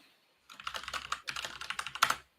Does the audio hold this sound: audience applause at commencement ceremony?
no